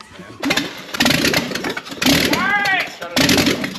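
Car engine running without headers, firing hard in loud rough bursts with popping, flames shooting from the side, while people shout over it.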